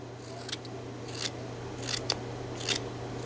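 A knife carving a small wooden Russian folk toy, cleaning up the back of the figure: quiet, close scraping and snipping cuts come in a few separate bursts over a steady low hum, with no talking.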